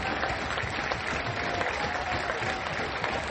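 Baseball fans at an NCAA college Super Regional game in Louisville keep up steady, rapid two-strike clapping, a loud, continuous crowd applause that fills the stadium.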